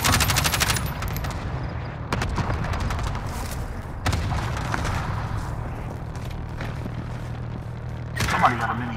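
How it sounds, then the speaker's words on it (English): Minigun fire during a Call of Duty: Modern Warfare online match: sustained rapid bursts of automatic gunfire with sharp shots and booms, close and loud, broken by short gaps while players talk over the fighting. "Somebody got a mini gun."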